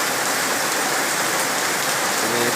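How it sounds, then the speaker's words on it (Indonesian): Heavy rain pours steadily over a flooded residential neighbourhood, a dense, loud, unbroken hiss of drops on surfaces with no voices. "Ini sudah hujan dari semalam ini."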